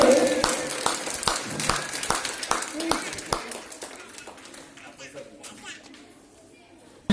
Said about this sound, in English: बच्चों लोग ताली लगाइए अपने टीचर्स के लिए।